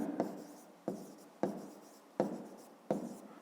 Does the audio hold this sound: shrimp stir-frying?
no